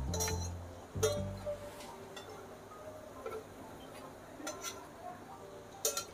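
Metal tongs turning rodge, thick Vidarbha-style breads roasting in a covered pan, giving several sharp clinks and taps of metal against metal and cookware, scattered over a quiet background with no talk.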